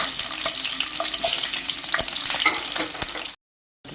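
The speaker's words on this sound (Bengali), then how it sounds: "তেল গরম আছে, ক্যাপসিকামগুলো দেওয়া হচ্ছে" Capsicum pieces dropped into hot oil after mutton chilli, frying with a loud, steady sizzle and crackle and some stirring, close by and alone, cutting off abruptly near the end.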